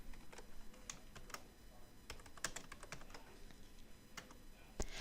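Quiet, irregular key clicks of typing on a computer keyboard, with no voices.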